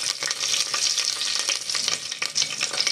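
Chana dal, cumin and fennel seeds splutter in hot oil, a dense, steady crackling hiss with quick pops throughout, close and fairly loud.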